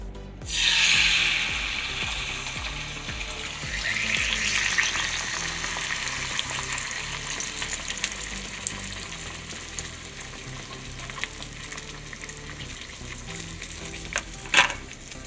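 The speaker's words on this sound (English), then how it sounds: "Let's cook the eggs." Beaten eggs cook in a hot pan with a steady, close sizzle that swells early and then settles, broken by light scrapes and a sharp utensil clack near the end.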